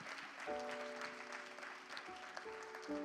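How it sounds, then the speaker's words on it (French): A church assembly applauds at a testimony service, soft, fairly distant clapping mixed with sustained musical tones in the background. "On peut applaudir ce que Dieu fait."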